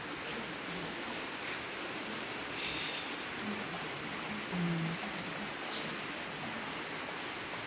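Rain pouring steadily on a vegetable garden in a continuous soft hiss, with faint scattered drips and a few brief background sounds rising over it.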